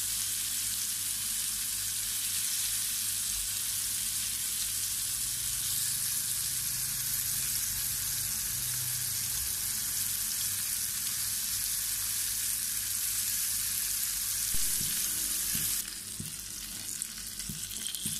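A fish fillet fries steadily in a pan, giving a dense, even sizzle that holds at constant loudness throughout, with a slight drop and some faint clatter near the end.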